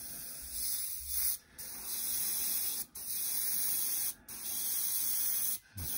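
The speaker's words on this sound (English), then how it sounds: "I'm going to spray some of this black paint as a kind of primer coat." Aerosol can of black spray paint applying a primer coat to a Historex 54mm Engineer of the Guard model figure, four long steady hissing bursts separated by brief pauses, close and loud with no talk.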